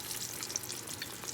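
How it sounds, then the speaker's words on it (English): Eggs frying in hot grease give a steady, soft, continuous sizzle and crackle throughout, close by and without any voices. "I have my eggs in the grease and I'm gonna be adding a little bit more, a few more eggs to this grease, but you just wanna let them fry"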